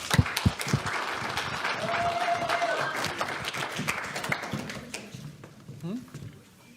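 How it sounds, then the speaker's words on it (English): Audience applause at the Emerson Institute 2024 graduation ceremony, a steady wash of clapping that holds for several seconds before thinning out, with voices talking over it. "Clap away."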